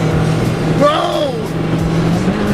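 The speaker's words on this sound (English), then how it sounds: "He's flooring it!" A car at full throttle roars past with a rising, sweeping engine pitch, loud over a steady drone of the car carrying the listeners.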